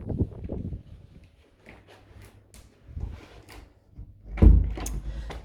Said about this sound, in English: The door open and closes fine